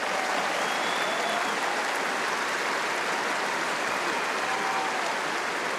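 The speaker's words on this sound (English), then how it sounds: "Please give him a warm round of applause" Large stadium crowd at a tennis trophy ceremony applauds the chair umpire, a dense, continuous roar of clapping that stays steady and full for the whole stretch, heard from within the crowd.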